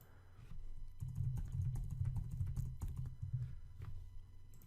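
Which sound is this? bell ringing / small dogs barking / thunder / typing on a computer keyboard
typing on a computer keyboard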